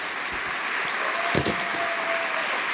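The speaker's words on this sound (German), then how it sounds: "Großer Applaus." Steady applause from a live studio audience at a German late-night comedy show fills the space evenly, with dense clapping throughout and a brief louder burst near the middle.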